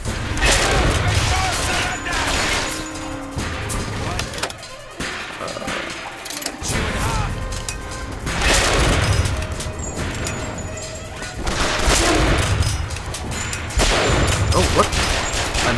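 Bursts of gunfire and crashing impacts in BioShock Infinite's combat come in loud, irregular volleys with brief lulls, while someone talks over parts of the fight.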